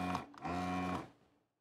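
Desoldering tool's vacuum pump running with its hose disconnected, during work on an Amiga 1000 motherboard: a short, loud mechanical buzz with a steady hum, briefly dipping, then surging again for about half a second before fading out.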